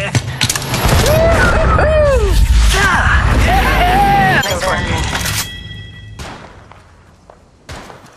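Gunfire and explosions in the mobile video game Apex Legends Mobile, loud dull thuds and bursts under voiced game chatter through most of the stretch, fading to sparser hits near the end.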